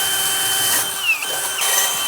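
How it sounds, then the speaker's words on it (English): A power drill with a large bit bores holes for a bathroom exhaust fan install, giving a short, close, high whine that dips in pitch as the bit bites into the material. "I'm gonna reach up with that great big drill bit."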